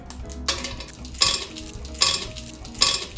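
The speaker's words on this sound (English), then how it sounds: "You unwrap the candies and put them in." Unwrapped Jolly Rancher hard candies dropped into a blender already holding ice, giving three or four sharp, close clattering knocks against the jar at a steady pace, with no talking.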